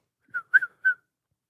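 A person whistles three short, clear notes, the middle one dipping in two quick parts, alone with no talk.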